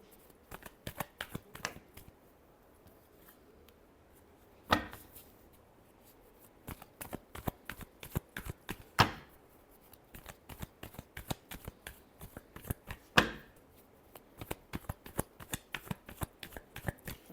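Tarot cards are shuffled up close in quick, crisp riffling bursts of flicks and slaps, with a few louder snaps between the runs and no talk.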